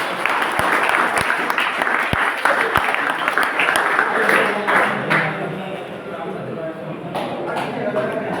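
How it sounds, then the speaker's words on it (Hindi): An audience at a skill convocation ceremony applauds an honoree, a dense continuous patter of clapping with a few louder close claps near the start, and murmuring voices blending in underneath. "भाई तालियों से अभिनंदन करेंगे सब।"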